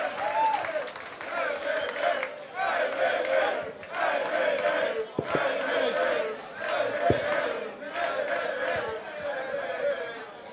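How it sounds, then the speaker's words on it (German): A crowd at a Berlin freestyle rap battle semifinal claps, cheers and shouts in rhythmic surges, with loud rowdy voices rising and falling throughout. "einmal Applaus für dieses zweite Halbfinale"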